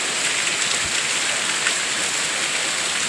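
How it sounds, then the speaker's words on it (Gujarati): Dense, steady downpour of heavy rain pattering on a surface, loud and continuous throughout. "બે થી ત્રણ દિવસથી એક ધારો વરસાદ છે"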